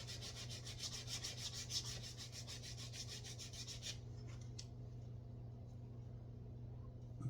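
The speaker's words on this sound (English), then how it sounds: "I'm just straightening everything up in here using a file with some 320 on it." A file wrapped in 320-grit sandpaper smooths a cut edge inside a Harley Benton BM-75 guitar body, giving rapid, rhythmic rasping strokes for about four seconds before stopping, faint and close over a low hum.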